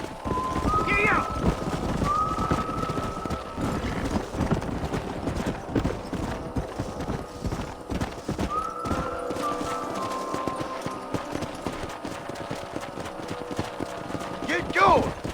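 In the Red Dead Redemption video game, a herd of wild horses gallops with steady, busy clip-clop hoofbeats, broken by a few brief whinnies and some wind, while characters talk over them.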